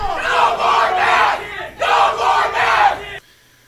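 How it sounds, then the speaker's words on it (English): A large crowd screams and yells at police officers in loud, sustained waves that swell, dip briefly, then surge again before cutting off abruptly. "And they're all screaming their breath at these cops here."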